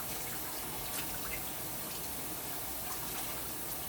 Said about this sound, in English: I'm just gonna wet this in some cold water